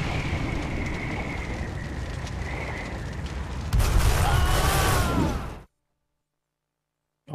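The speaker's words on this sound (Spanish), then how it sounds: "es una explosión bastante floja." A weak explosion in the Aconcagua video game, set in a mine, comes as a soft, muffled boom that rises from a steady rumble and fades out into silence.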